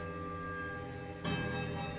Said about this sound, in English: There's a quiet melodic chime from all 3 bells